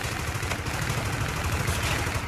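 Continuous full-auto gunfire in the shooter Call of Duty: Infinite Warfare, a dense, loud unbroken rattle of rapid shots throughout.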